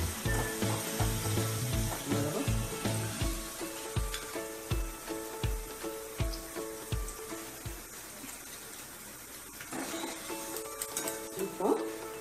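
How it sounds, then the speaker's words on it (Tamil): Potato chips fry in virgin coconut oil with a steady close sizzle, while a spoon stirs and scrapes through the pan at intervals and a voice talks over the cooking. "இப்போ நம்மளோட பொட்டேட்டோ ஃப்ரை ஆல்மோஸ்ட் ரெடி ஆயிடுச்சு"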